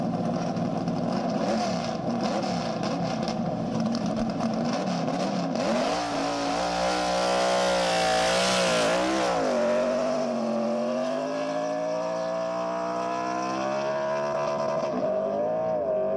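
A C-class street roadster race car launches on the El Mirage dry lake course, its engine roaring loud and close, revving hard and climbing through gears as it pulls away.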